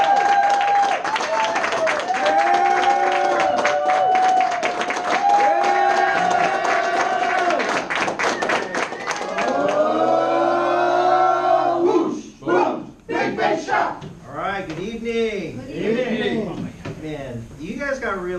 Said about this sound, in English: I want you guys to give a big round of applause